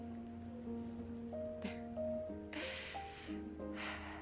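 Rain falls in the video game South of the Circle, heard as swelling washes of rainfall that surge and fade over soft sustained music tones.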